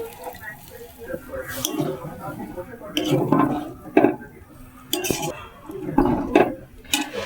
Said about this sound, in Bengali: এক ঘটি জল দিয়ে দিচ্ছি।